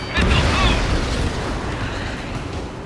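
A missile explosion in the combat flight game Ace Combat 7: a loud, broad boom bursting in at once, then a long rumbling roar that fades slowly over a few seconds.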